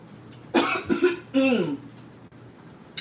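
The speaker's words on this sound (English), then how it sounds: "the flavor from it makes you want to cough" A few harsh coughs close by from pepper fumes while cooking with scotch bonnet pepper, two short bursts then a longer throaty one, followed by quiet.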